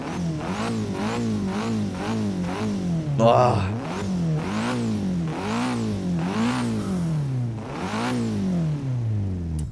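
Car engine in the Forza Horizon 3 racing game revs up and down in repeated rising and falling sweeps, loud and close, with a man's brief exclamation partway through.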